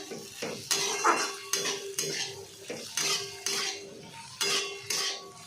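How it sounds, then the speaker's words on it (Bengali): A utensil scrapes and clinks against a pan while flattened rice (chira) is mixed in for chire pulao, in a regular rhythm of strokes under a faint sizzle. "এবার চিড়েগুলো আমি এটার মধ্যে দিয়ে দেব দিয়ে আবার ভালো করে মেশাতে হবে"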